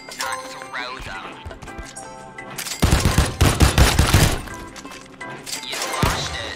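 Gunfire bursts from guns in the shooting game Shootyfruit, a dense cluster of loud cracking shots and impacts midway, with scattered hits and game sounds before and after.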